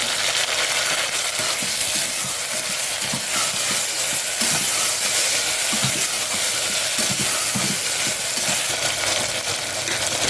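Steady frying sizzle of tomatoes in a pan, continuous and close, with occasional stirring clinks and scrapes throughout; no voices.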